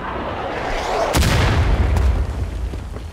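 Rifles fire in a volley by files in the War of Rights video game, with a distant crackle swelling into several heavy booming shots in quick succession amid battlefield rumble.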